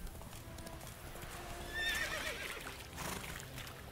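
A horse in The Witcher 3 video game gallops with rapid clip-clopping hooves and lets out a shrill neigh midway, all fairly quiet and steady over the game's ambient sound.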